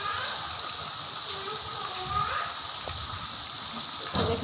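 Heavy rain during a storm, a dense continuous rush and patter close by, steady throughout with a brief louder splash near the end.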